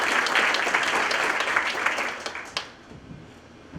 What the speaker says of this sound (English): Ladies and gentlemen, a big round of applause for Catherine Coons